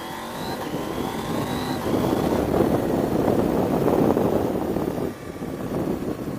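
A KTM 790 Adventure or BMW F850GS adventure motorcycle engine set to its off-road map hums steadily during a test ride, swelling as throttle opens and easing back, with constant wind rush over it.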